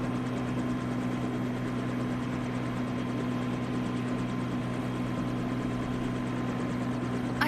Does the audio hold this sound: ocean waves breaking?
no